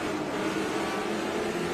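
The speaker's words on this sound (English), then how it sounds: "as we go back on board with Jay Buford, under braking into turn 1." Onboard race car engine during the SpeedTour Grand Prix at Mid-Ohio, braking into turn 1, a steady loud drone of engine and wind noise without a clear rev change, heard alone with no talk.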